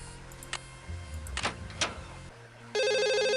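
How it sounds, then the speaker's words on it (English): A telephone rings in the Nancy Drew game Stay Tuned for Danger, a loud, steady electronic bell that cuts in abruptly at the end after a stretch of scattered game sound effects. "and then that triggers this phone call"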